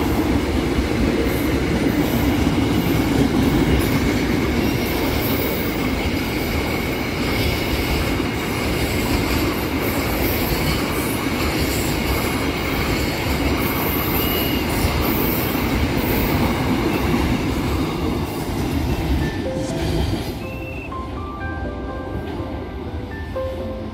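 Rail work train passing Andir station bound for Cicalengka, a loud continuous rumble of wheels with squealing and metallic clatter, close by, easing slightly near the end.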